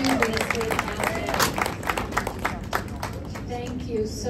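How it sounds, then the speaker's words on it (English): A large audience at a bar association judges' night dinner gives a steady round of applause for the event sponsors. Dense, even clapping fills the whole stretch, with a few voices speaking briefly over it. "Can everybody just give a big round of applause and thank you?"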